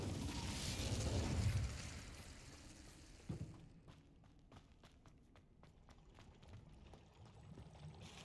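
A burst of fire from the Incendio spell cast in the Hogwarts Legacy video game, a loud roaring whoosh that swells and then drops off, followed by a brief thump and quieter clicking game sounds.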